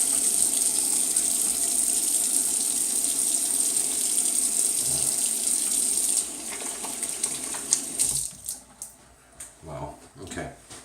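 Water runs steadily from a bathroom tap for several seconds while rinsing the face during a shave, then cuts off and leaves a few splashes and wet hand sounds.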